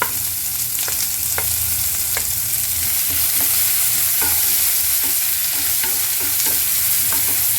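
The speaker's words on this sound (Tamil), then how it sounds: "இப்போ அதில் வெங்காயம் வதங்கிறது" Onion and garlic sauté in hot oil in a pan, a loud, continuous close sizzle with scattered clicks and scrapes from stirring and popping, and no voices.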